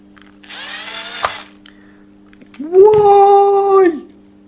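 Power drill driving screws into a 2mm carbon fiber chassis on a WLtoys 104001 RC car, a short buzzing whir around the midpoint followed by a louder, steady motor whine lasting about a second, heard up close.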